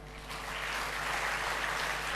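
Audience applause at a Malaysian student representative council convention in 2009: a steady, dense wash of clapping filling the hall, fairly distant and sustained throughout.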